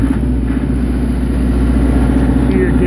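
A warmed-up MEP803A 10 kW Lister Petter diesel military generator runs with a loud, steady, close throbbing drone and a constant mechanical hum, its even engine note holding without pauses.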